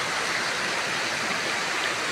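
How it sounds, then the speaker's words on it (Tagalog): Sabsaban Falls gives off a steady, dense rush of falling water, a constant broadband roar that stays even and moderately loud throughout. "Ito oh, talon."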